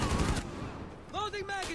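A rapid burst of gunfire in the video game Rainbow Six Siege, loud and close at the start, followed by a quieter stretch with tonal game sounds.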